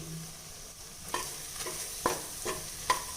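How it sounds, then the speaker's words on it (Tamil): Chicken gravy masala with Kashmiri chili powder stirred in a pan, a soft low sizzle under several scraping spatula strokes that grow sharper toward the end, close but quiet, with no talking. "இப்போ ஜஸ்ட் இந்த மாதிரி ஒரு ஒரு பத்து செகண்ட் பிரட்டி விட்டிங்கன்னா போதும்"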